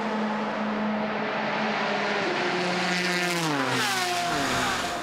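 A GTE Pro BMW and Ferrari battling on the circuit at Spa give a loud, continuous engine drone whose pitch shifts and sweeps as the cars pass and change speed.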